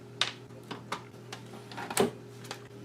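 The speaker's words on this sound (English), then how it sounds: "Some of these screws are making interesting noises." Screws being removed from a vintage Commodore computer make a series of small clicks and squeaks, with scattered ticks and scraping over a faint low hum.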